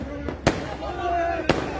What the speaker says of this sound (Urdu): کیپٹن سے خطروں کی رخسار آتش بازی روک دو